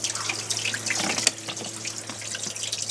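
Water trickles and drips as it drains by gravity from a 2018 Mercruiser Alpha 1 stern drive with a 4.5 L 250 HP engine, a close splashing with one brief clink partway through.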